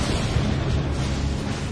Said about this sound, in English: Now, they can hear thunder and see lightning in the distance.